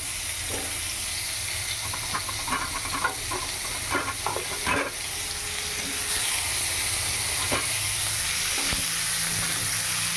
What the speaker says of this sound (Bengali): সবজিগুলো একটু ভাজা ভাজা মতো করে নিই